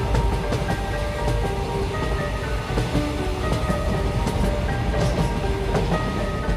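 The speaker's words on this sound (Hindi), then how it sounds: "इसके बाद ट्रेन स्टेशन छोड़ देती है और वहां से निकल" A cartoon train pulls out of a station with a steady, loud rumbling clatter and rhythmic rail clicks, plus occasional higher squeals, filling the whole stretch.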